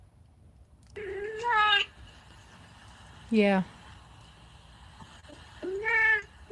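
A cat gives three drawn-out, plaintive meows spaced a couple of seconds apart, clear and close, with a person speaking briefly in between.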